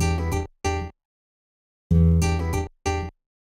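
A drum sample from tracker music played on a Gravis UltraSound card with a stepped volume envelope: two short bursts, a pause, then two more, each cutting off sharply, loud and alone.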